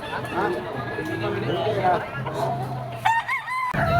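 A bull stag gamecock, super brown red, crows loudly and close near the end, cutting through a busy rooster market where other fowl cluck and crow and people chatter throughout.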